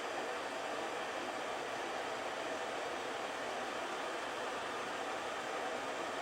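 A hair dryer with a diffuser blows on damp wavy curly hair, a constant close airy roar holding steady throughout, no voices.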